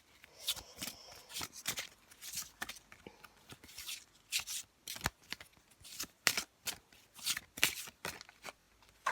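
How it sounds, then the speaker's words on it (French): Arthurian tarot cards being shuffled by hand close up, a rapid run of crisp riffling flicks and slaps in irregular bursts, with no talking. "avec le tarot arthurien, je vais tirer une carte"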